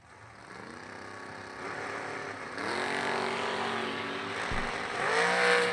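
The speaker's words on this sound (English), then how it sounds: "Oh, we got us a drag race" Drag race cars, including a red Pinto, launch and accelerate hard down the strip, engines climbing in pitch through rising gear pulls and growing louder as they pass, with no talk over them.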